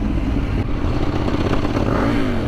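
A KTM 790 twin-cylinder motorcycle engine drones loud and close while riding, a constant gritty roar with slight rises in pitch, mixed with wind rush and some clatter.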